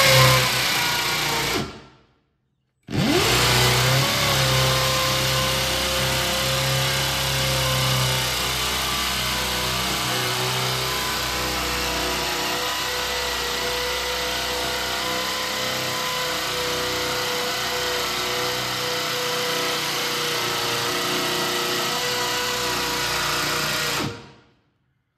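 A power drill with a diamond bit whirs steadily and loudly for over twenty seconds, pausing briefly near the start, with a grinding, labored tone as it bores into stone.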